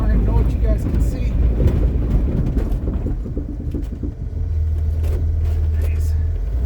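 Jeep Wrangler TJ driving in second gear through foot-deep snow, a steady low engine rumble throughout with a drone settling in the second half, a person speaking over it.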